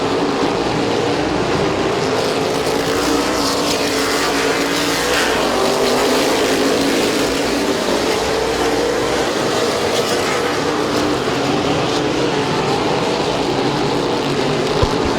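Race cars roar around the oval at Midvale Speedway, a continuous blended drone of engines, loud and steady throughout, with a broad wash of crowd and track noise.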